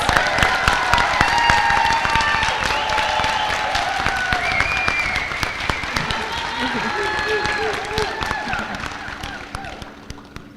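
Audience applause and cheering at a fall nursing pinning ceremony for nursing graduates, sustained clapping from a large crowd with voices and chatter mixed throughout.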